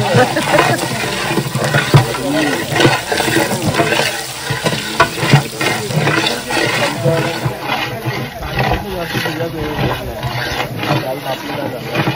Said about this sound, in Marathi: ओके तर आता कांदा कढीपत्त्याची फोडणी दिली आहे.